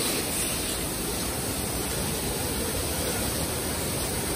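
Waterfall inside a cave at Gaighat, a steady loud broadband rush of falling water with no breaks, no voices.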